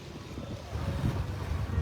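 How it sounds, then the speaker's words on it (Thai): Sea waves roll against Bang Saen beach in Thailand under steady wind that buffets the microphone, making a continuous low roar that swells slightly louder toward the end. "นี่นี่นี่ทะเลทะเล นะ เสียงทะเลนะฮะ"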